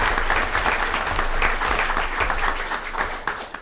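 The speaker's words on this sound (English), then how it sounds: "we want to make sure we give them a round of applause for all of their hard work" People at a school board meeting give a short round of applause, brisk and fairly dense, gradually thinning toward a few lingering claps at the end.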